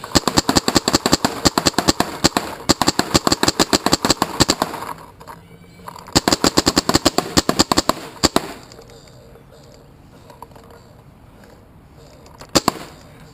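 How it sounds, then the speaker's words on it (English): A Dangerous Power G3 paintball marker fitted with a Virtue board fires rapid bursts of shots, dense strings of sharp near pops with brief pauses between volleys, then a quieter stretch with a final couple of shots. "Okay, but that seems to be shooting pretty well."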